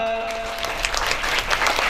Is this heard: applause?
yes